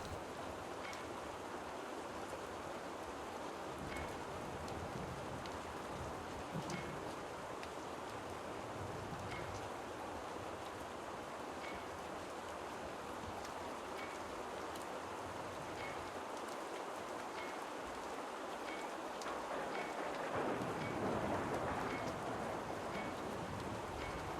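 Steady rain falling in the Rue Valley game world, near a river among quiet hills, as a dense, continuous hiss with scattered drips that swells slightly toward the end, with no voices.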